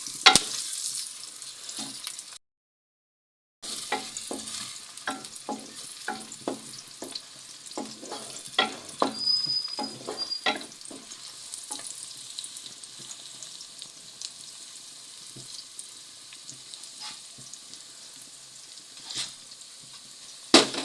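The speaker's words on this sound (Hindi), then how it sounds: "प्याज हमारा फ्राई होने लग गया है। प्याज को भी फ्राई करते हैं" Onions frying in a pan hiss and sizzle at a low level, broken by repeated scraping strokes of stirring and a few sharper clicks, close up with no one speaking.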